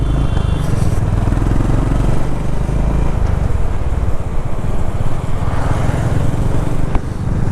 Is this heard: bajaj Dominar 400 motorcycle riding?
yes